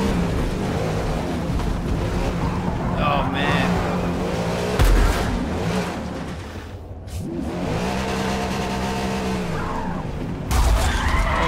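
Car tires skid and squeal as a car drifts in Forza 5, long sliding tire screeches over a revving engine drone, loud and sustained with brief pauses, while a person talks over the driving.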